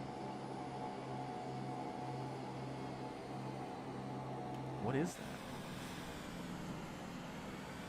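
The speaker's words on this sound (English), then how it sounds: "Oh, it's a Vision Jet." A Cirrus Vision Jet flies by in Microsoft Flight Simulator 2024. A steady, faint engine drone swells into a brief whooshing pass partway through, and someone speaks over it.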